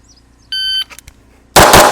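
During a practical pistol shooting drill, a shrill electronic timer beep sounds, then after a short pause a single loud, sharp pistol shot rings out close by.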